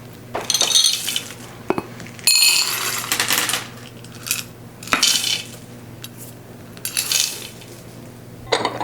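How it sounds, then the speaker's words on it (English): Chocolate chips tumble into a mixing bowl for chocolate chip walnut cookie dough, giving bursts of bright clattering clicks and pings that come and go in uneven pours, close and fairly loud. "Now I'll add 3/4 of a cup of chocolate chips."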